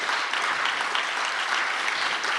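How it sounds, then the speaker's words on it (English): Dense, steady applause from an audience at a political debate event, a continuous wash of many hands clapping at constant loudness with no pauses. "Let's have that kind of big round of applause thing"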